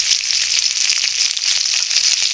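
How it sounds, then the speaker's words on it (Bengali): Chopped onion and tomato sizzle steadily in hot oil after a kalonji tempering, a bright, even crackle that holds close and loud without any talk. "আমি দিয়ে দেব কুচিয়ে রাখা পেঁয়াজ দু পিস টমেটো"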